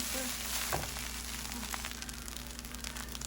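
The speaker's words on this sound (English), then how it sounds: "I'm bringing it closer so you can hear the rice singing now." Steady crackling sizzle of egg fried rice frying in a hot pan, close and continuous, with no talking.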